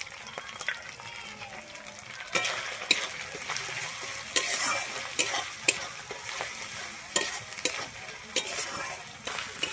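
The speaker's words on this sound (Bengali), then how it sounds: "আমার এই মশলাটা কিন্তু খুব সুন্দর কষানো হয়ে গেছে।" A masala of ginger, green chili and chili powder fries in a pan for a Bengali tarai fish curry, a steady sizzle broken by repeated sharp scrapes and knocks of a spoon stirring against the pan, close and fairly loud.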